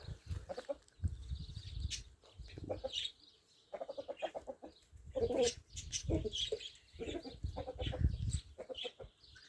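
Barred hens on a green pasture cluck in irregular bursts, close by and moderately loud, with soft rustling between the calls and no talk.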